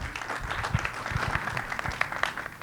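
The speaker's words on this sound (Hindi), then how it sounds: "एक बार जोरदार ताली होनी चाहिए" Audience applause at a film trailer launch event, steady dense clapping throughout with scattered louder claps, fairly close and continuous for the whole stretch.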